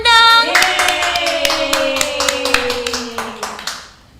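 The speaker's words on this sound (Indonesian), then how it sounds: "Kita beri tepuk tangan dong." Hand clapping on a children's programme, a run of distinct, fairly close claps at an uneven rhythm under a sustained melodic tone, tapering off after about four seconds.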